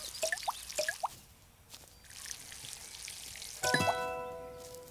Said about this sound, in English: Let's go ahead and water these.